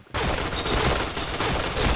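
Sustained rapid gunfire in a video game, a dense continuous burst of shots that starts abruptly and stays loud and close throughout, with no talking.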